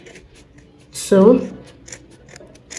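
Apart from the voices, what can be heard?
scissors cutting yarn for a pompom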